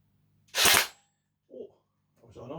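A Cyma CM.515 M4A1 airsoft carbine fires a single semi-auto shot outdoors, one sharp loud crack followed by brief faint sounds and a voice.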